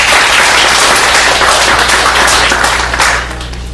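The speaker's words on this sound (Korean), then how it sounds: "박수 한번 해주세요." Loud, close, dense applause from a church academy audience greets a missionary being introduced, a thick continuous roar of many hands that holds steady and then drops away sharply toward the end, leaving a low hum.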